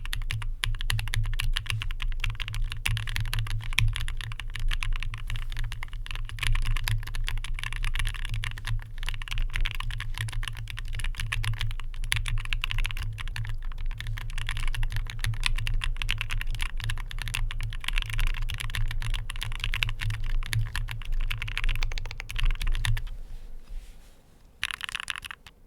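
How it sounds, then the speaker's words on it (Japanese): Mechanical keyboard with Owlab London Fog switches and GMK cherry-profile keycaps typed on steadily, producing a dense, continuous patter of close, clicky keystrokes that fades out near the end with no talking. "GMK のチェリープロファイルのキーキャップの場合の音ちょっと聞いてみてください"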